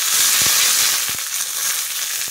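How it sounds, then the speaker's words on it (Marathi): Chillies, cumin and curry leaves sizzle in hot oil for a tadka poured over a mixed sprouted-lentil amti. The frying is a loud, steady hiss with scattered crackles and pops throughout. "हे बघा इथे मी तेल गरम करून घेतलेलं आहे. त्याच्यामध्ये मी मिरची आणि जिरं टाकून घेणार आहे."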